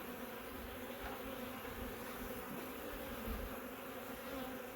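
A steady swarm-like drone of honey bees fills the air at an open hive where the colony is drawing comb, continuous and close, swelling slightly near the end with no talk.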